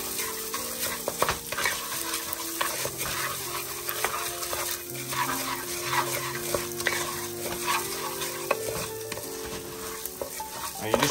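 Rice frying in a hot pan while being stirred, with a steady sizzle and repeated scraping strokes of the utensil running through the whole stretch, close and fairly loud, with no talk.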